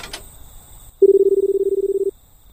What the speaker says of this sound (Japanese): でも911かけてみるか。